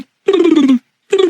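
Pigeons cooing close by, two loud, throaty coos separated by a short pause, no talking.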